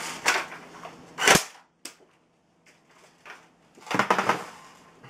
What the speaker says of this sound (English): I'm going to try and shoot that Lego brick off.